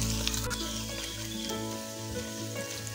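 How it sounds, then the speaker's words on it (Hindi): Eggs frying in oil for an egg masala curry, a faint, even sizzle with light crackle and a low background hum, no voices. "अंडों को भी ऑयल में हम फ्राई कर लेंगे।"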